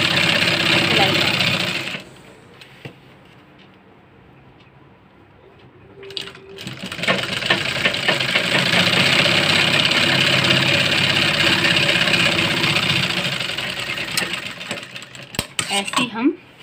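A sewing machine stitches a salwar along the edge of buckram, running in a loud, dense whir for a couple of seconds, pausing, then resuming for a long continuous run with light clicks and taps near the end.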